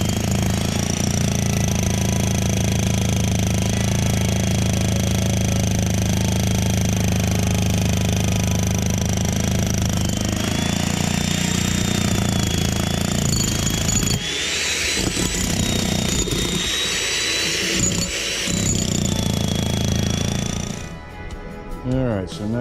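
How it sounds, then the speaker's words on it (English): A loud jackhammer pounds continuously, rapid hammering on a concrete fireplace with an engine drone underneath, then briefly cuts out near the end. "I'm going to jackhammer this corner here and let you see it close up."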